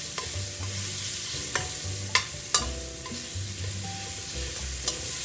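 Garlic sautéing in a frying pan while meatballs and miswa noodles are being made, giving a steady close sizzle with repeated sharp scraping stirs of a utensil against the pan and no voices.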